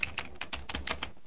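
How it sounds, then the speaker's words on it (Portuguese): A computer keyboard clatters with quick, evenly spaced keystrokes as a website address is typed, close and clear with no talking. "Você vai digitar aqui na tela aqui em cima, ó."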